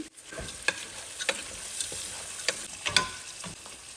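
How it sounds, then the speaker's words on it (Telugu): Cumin seeds crackle in hot oil for gongura pulihora, a soft continuous sizzle broken by several sharp spoon scrapes and stirs against the pan, close and alone. "కొంచెం జీలకర్ర వేస్తున్నానండి"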